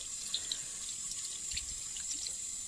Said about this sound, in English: then you just rinse it off